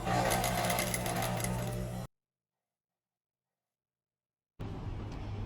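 Sewing machine stitching a hem on a silk-like strappy tank top, running in a steady whir for about two seconds, then stopping into silence before starting again near the end.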